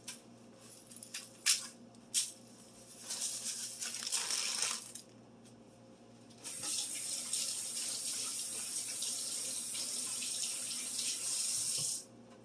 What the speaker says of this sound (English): And wash your hands with hot soapy water.